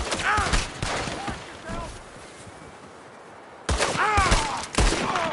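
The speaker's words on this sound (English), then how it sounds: "There's another one shooting from the window!" Rapid gunfire rattles through a shootout ambush in Red Dead Redemption 2, dense bursts of shots in two loud stretches with a brief quieter lull between, as voices shout underneath.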